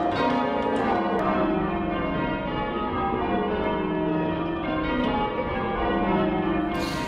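Church bells in a tower ring steadily with overlapping, sustained tones, loud and continuous throughout with no talking.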